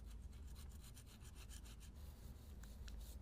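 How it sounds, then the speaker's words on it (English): A small brass-bristle brush scrubs the old head-mating surface of a 2.4L Dodge/Plymouth/Chrysler engine block, giving a steady rapid rasping back-and-forth rub with a few sharper scrapes near the end, close and alone. "small brush that has brass bristles"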